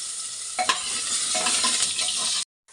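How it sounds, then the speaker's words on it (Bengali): Potatoes dropped into hot oil fry with a loud, dense hiss and sizzle, close up, with a few stirring clatters before the sound cuts off near the end. "তেলটা গরম হয়ে গেছে এখন আমি আলুগুলো এর মধ্যে ছেড়ে দিই"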